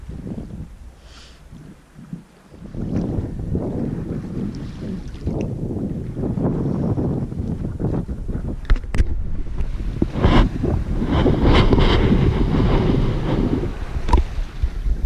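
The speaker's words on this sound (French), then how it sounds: "Donc on a 8 nœuds de vent de travers" A sailboat crossing open sea in an 8-knot easterly crosswind, with steady wind buffeting the microphone over a continuous rush of water and waves against the hull, loud and close throughout, with no talk.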